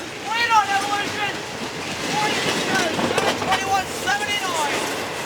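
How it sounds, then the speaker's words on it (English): A fast CSX freight train rushes past at close range with loud, steady rumbling and roaring wheel noise, while someone talks and cheers over it. "this is the fastest train I've ever seen come on this connection"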